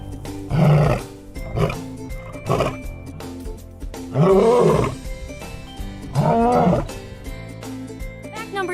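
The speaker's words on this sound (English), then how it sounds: "Did you know that a lion's roar can be heard from up to 5 miles away?" A lion roars in a series of deep, throaty bursts, several loud rumbling calls separated by short pauses, close and alone.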